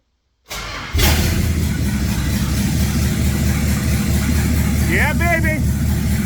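A car engine cranks and catches, then settles into a loud, steady idle close by; a brief voice is heard near the end.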